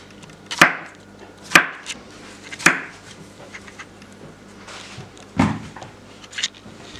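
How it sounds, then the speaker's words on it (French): A knife slices zucchini into rounds on a cutting board, giving about five sharp, separate chops spaced roughly a second apart, with quiet pauses between them. "Après, on les coupe en rondelles."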